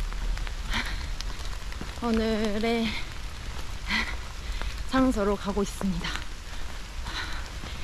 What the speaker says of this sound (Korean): 오늘 저녁까지 비가 오려나 봐요